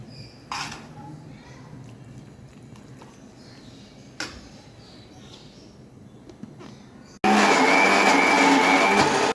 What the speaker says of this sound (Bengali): আমি এটা নিজের ইচ্ছা মতো ব্ল্যান্ডারে করে দিচ্ছি